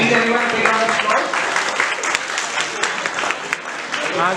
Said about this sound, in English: Professor Dr. Anu, please everyone take a round of applause.